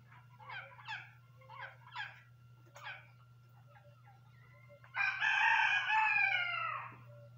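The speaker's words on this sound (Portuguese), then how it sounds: "Até a galinha tá invocando com esses bichos." Chickens call on a rural smallholding where marmosets are fed bananas: a few short, separate clucks come first, then a loud, drawn-out squawking call near the end, all over a steady low hum.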